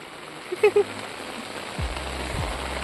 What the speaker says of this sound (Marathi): मेला पावसान जोरच केला